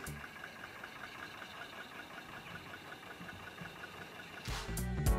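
An early Rolls-Royce car engine runs steadily at idle, a soft, even rumble with a faint ticking, followed at the end by a few louder knocks or thumps.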